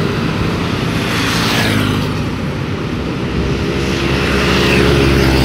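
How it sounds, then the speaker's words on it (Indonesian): Dense night traffic of motorbikes and cars streams over the Jenggolo flyover in Sidoarjo as a loud, continuous roar with rising and falling passes and no voices. "Tetap ramai lancar arus lalu lintas yang melewati Jembatan Layang Jenggolo ini"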